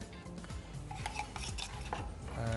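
Stock poured into cashew nut paste in a pan, with a spoon scraping and stirring against the metal under a faint sizzle.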